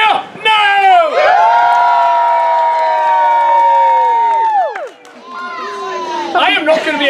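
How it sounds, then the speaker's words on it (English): A theatre audience at a Shakespeare Romeo and Juliet show cheers and whoops loudly, with high, sustained hoots carried over a dense crowd roar. The noise dips briefly toward the end before swelling again. "you need to go and say hoot, holler, clap, cheer, stomp your feet, whistle"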